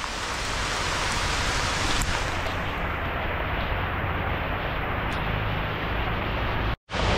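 Heavy rain pours steadily and loudly outdoors near the Puerto Princesa Underground River in the Philippines, a dense continuous hiss that cuts off abruptly near the end.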